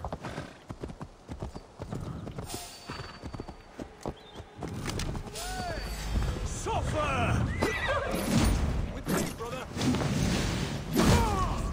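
A horse in Assassin's Creed Valhalla gameplay whinnies over a steady clip-clop of hooves, with swooshing movement and a voice speaking along the way; the sounds grow louder and busier toward the end.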